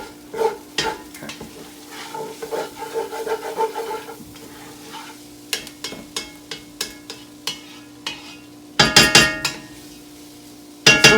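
An Exoglass mixing spatula stirring and scraping a pan of jambalaya after red wine goes in, with irregular scrapes and knocks, faint sizzling underneath, and a burst of sharp clattering strikes near the end.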